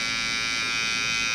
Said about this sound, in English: I'm gonna go back in with my trimmer.